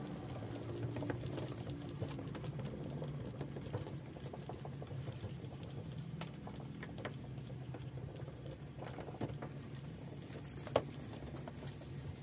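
A plastic headlight is wet sanded by hand with 3000 grit sandpaper, giving a steady, close, soft scratchy rubbing texture that continues throughout with no talking.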